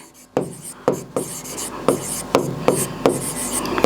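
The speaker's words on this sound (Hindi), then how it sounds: "हम यहाँ पे लिखते हैं" Chalk or marker strokes on a board while a maths problem is worked out, a series of sharp scratchy taps and short scrapes arriving roughly every half second, close and clear with no talking.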